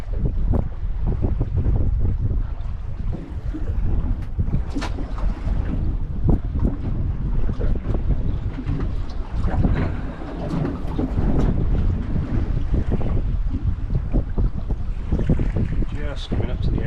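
Strong wind roars steadily over a small fishing boat drifting at sea near a wreck, buffeting the microphone and mixing with water slap and hull noise, while a voice is faintly audible beneath it.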